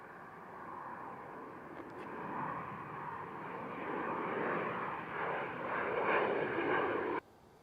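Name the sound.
NetJets Cessna Citation Longitude jet taking off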